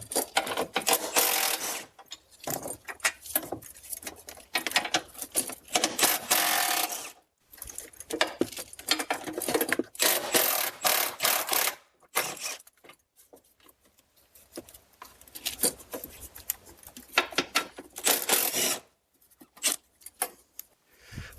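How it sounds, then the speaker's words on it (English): Power tool zipping out four bolts on a Ford Escape 6F35 transmission bracket, heard as repeated close, loud bursts of whirring and ratcheting with short pauses between each bolt. "we'll zip those 4 bolts out"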